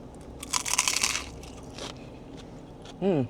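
Close, crisp crunching of sushi wrapped in nori being bitten and chewed, a short cluster of crackly bites followed by quieter chewing, with a brief voiced hum at the end.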